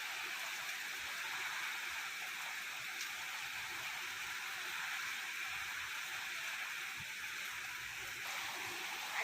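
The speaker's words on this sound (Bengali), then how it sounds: "প্রচুর পরিমাণে দেখো পুরো ধুলো বৃষ্টির মতন যেন তুফানের মতন জল ছিটকে ছিটকে পড়ছে" Steady heavy rain and storm wind from a cyclone roar without a break, a dense wash of hiss that holds an even loudness throughout.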